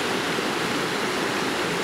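The waterfall at Nile Creek in the woods gives a steady, dense rush of falling water, close and loud, with no voices.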